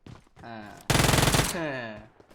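A single burst of rapid automatic fire from a PUBG Mobile gun lasts about half a second, loud and close. Voices talk right before and after it.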